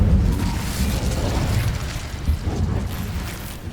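The Incendio fire spell is cast in the wizarding game Hogwarts Legacy, a dense roaring whoosh of burning flame with low rumbling bursts that holds steady at close range for a few seconds.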